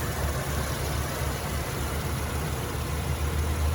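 A 2019 Chevrolet Traverse RS engine idles steadily with a smooth, low rumble and a faint high hiss, heard alone without talking.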